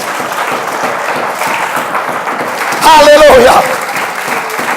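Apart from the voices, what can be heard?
congregation applauding in church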